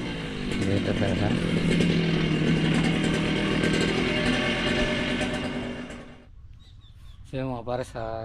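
A grass cutter engine drones loudly and steadily while clearing grass on a farm, then cuts off abruptly, leaving quieter surroundings with birds chirping nearby.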